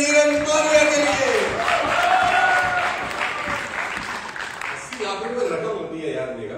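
Audience at an anniversary event in Thailand applauding two honourees, a crowd clapping loudly under a speaking voice, the applause fading slightly toward the end.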